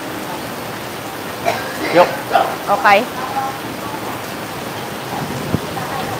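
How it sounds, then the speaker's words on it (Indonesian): Heavy rain pours steadily through a thunderstorm on a darkened morning, making a loud, continuous hiss. A few brief spoken words sit on top of the downpour. "Hujan, iya hujan gede banget ini, thunderstorm, bukan hujan lagi."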